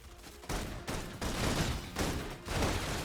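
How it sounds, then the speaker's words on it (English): Dense, continuous bursts of suppression gunfire in the video game Love and Deepspace, roaring in overlapping waves, loud and sustained with no pauses. "Requesting full suppression gunfire."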